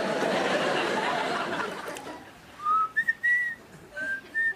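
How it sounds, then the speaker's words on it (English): A person whistles a few short, close, clear notes after a stretch of broadband background noise fades out. "You were whistling."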